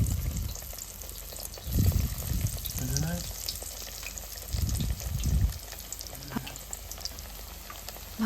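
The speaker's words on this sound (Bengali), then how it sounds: "এখানে তেল গরম হয়ে গেছে, এখন আমি বেগুনগুলো একটা একটা করে দিয়ে দেব।" Brinjal slices frying in hot oil for a brinjal chop, with a steady low sizzle and bursts of louder crackling as pieces go in, plus faint clinks of stirring nearby.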